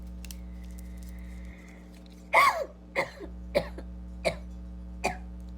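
Five sharp coughs from a scratchy throat, the first loudest and harshest, then four shorter ones spaced about half a second apart, close by over a steady low hum.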